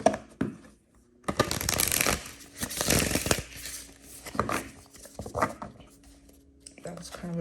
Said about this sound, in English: That was kind of a doofy shuffle.